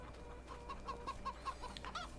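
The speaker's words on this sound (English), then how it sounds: "just checking out the chickens" Young chickens on a farm in the video game Farming Simulator 22 cluck in a steady series of short, soft calls, close by and alone, with no talking.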